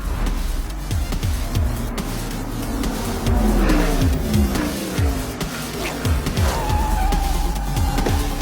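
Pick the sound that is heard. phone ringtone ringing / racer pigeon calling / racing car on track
racing car on track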